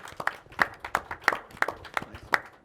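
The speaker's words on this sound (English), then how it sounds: "give a round of applause to our debaters here" Sparse, uneven clapping from a small audience at a health-policy debate at a convention, rising in about seven distinct bursts over a few seconds rather than a dense roar.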